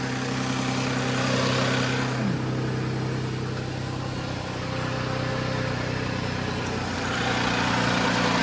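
A 2014 Audi Q7 engine idles steadily after an engine swap, a constant close mechanical hum and rumble with a faint tonal whine early on and no talking.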